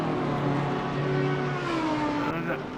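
BMW and Mercedes race cars in a racing video game at Imola roar continuously, several engines droning and shifting pitch together at close range, with commentary talk running over them.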